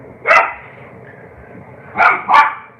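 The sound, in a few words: puppy barking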